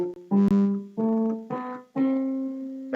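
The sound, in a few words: electronic piano playing a rising scale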